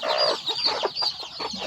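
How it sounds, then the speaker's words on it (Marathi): Free-range country hen with newly hatched chicks, clucking close by in rapid, repeated bursts with no talk. "बघा ही आहे आपली कोंबडी आणि याला म्हणतात गावरान पद्धत"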